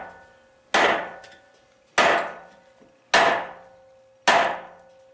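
A Cold Steel Espada folding knife with a Tri-Ad lock takes four sharp, evenly spaced strikes, each a loud hard knock that rings and decays before the next, with no talking.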